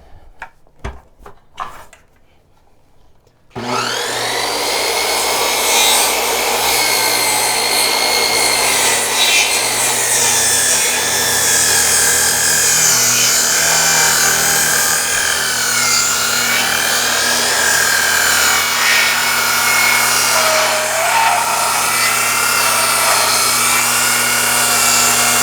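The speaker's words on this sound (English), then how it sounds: "I'm going to hook up the power saws and start making my cuts." A power saw starts up and bites into timber while cutting a scarf joint, giving a loud, sustained whining buzz that holds steady for over twenty seconds after a few handling clunks.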